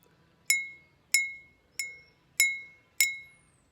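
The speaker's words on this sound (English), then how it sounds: "using the back end of my spoon, tapping very lightly on the rim" A spoon's back end taps lightly on the rim of a glass cup holding water, five clear ringing pings at an even pace, each bright tone decaying quickly before the next, close and alone.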